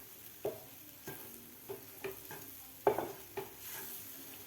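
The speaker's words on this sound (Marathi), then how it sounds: "व्यवस्थित मिश्रण घट्टसर होईपर्यंत आपल्याला हे परतून घ्यायचं आहे" Rava and coconut modak mixture is stirred and sautéed in a pan, with a steady soft sizzle broken by distinct scraping strokes of the spoon every half second or so, close by and alone.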